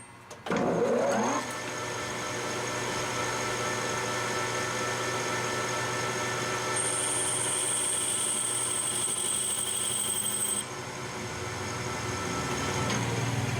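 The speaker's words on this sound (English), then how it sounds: "Boring out the inside, last few passes." A lathe boring out the inside of a custom beer tap handle, a steady mechanical hum with a sharp start and a thin high cutting squeal for a few seconds mid-pass.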